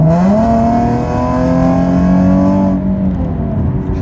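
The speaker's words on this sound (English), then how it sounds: "So many people hate the sound of a 370Z, the VQ." A Nissan 370Z with its VQ V6 engine, in a car being tuned for more horsepower, revs loudly and close, the tone climbing and holding as a steady whine before easing off.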